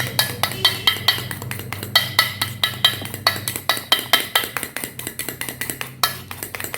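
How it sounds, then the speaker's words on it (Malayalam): Aloe vera gel and egg white are whisked in a bowl, a fast steady run of bright clinking taps of the whisk against the bowl's side, loud and close, with no talking. "കറ്റാർവാഴയുടെ ജെല്ലും എഗ് വൈറ്റും കൂടെ ഒന്നുകൂടെ ഒന്ന് പതപ്പിച്ചെടുക്കാവേ."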